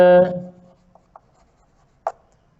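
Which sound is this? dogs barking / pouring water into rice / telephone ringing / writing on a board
writing on a board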